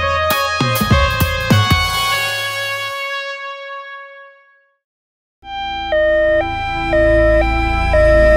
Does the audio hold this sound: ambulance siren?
yes